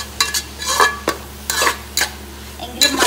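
Onions and masala sautéed in a pan for chicken biryani: loud, close spatula scrapes in an irregular rhythm over a low steady sizzle, with occasional metallic clinks against the pan.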